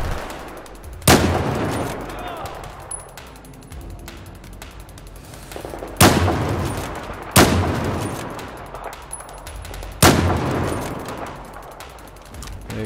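Sniper rifle fire in Battlefield 4 rings out as four loud, sharp cracks spaced a few seconds apart, each with a long decaying tail over a steady bed of game ambience.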